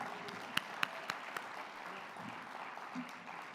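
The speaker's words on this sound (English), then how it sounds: "I think we need to give him another round of applause just for that" An audience at a community briefing gives a round of applause, a soft, distant patter of clapping with a few sharper claps standing out near the start.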